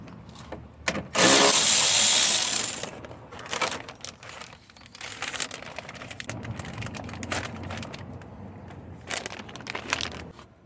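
A 10mm bolt is worked out of a Lexus ES300 door: a loud burst of ratcheting or power-driver noise early on, followed by scattered clicks, rattles and handling sounds of metal and trim at close range.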